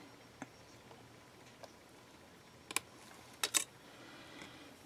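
A blade cuts through a polymer clay cane, giving a few faint, sharp clicks and taps close by, with a short cluster of quick ticks near the end in an otherwise quiet room.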